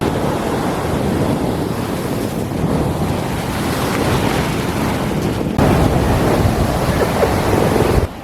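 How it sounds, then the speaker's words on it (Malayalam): Rough monsoon sea surging against the eroding shore at Kappad beach, Kozhikode, as a loud, continuous roar of surf mixed with heavy wind buffeting on the microphone, with no voices. "കടൽക്ഷോഭം രൂക്ഷമായതോടെ കാപ്പാട് കൊയിലാണ്ടി തീരദേശ പാത തകർന്നു"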